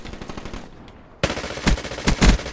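PPH submachine gun firing in a video game. After a quieter lead-in it breaks into loud close-range automatic bursts with several sharp peaks in quick succession.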